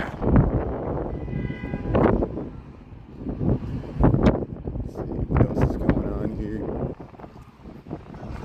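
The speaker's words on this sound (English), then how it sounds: "Metra Electric pull into the Van Buren Station" A Metra Electric train pulls into Van Buren Station in Chicago, a steady rumble of rail noise under wind buffeting the microphone, with people talking throughout and a brief horn-like tone early on.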